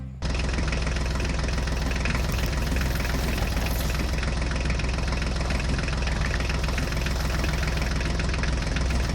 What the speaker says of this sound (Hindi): अब हम अपनी ट्रैक्टर गाड़ियों को लेकर चलते हैं, हमें उस खड्डे को भरना पड़ेगा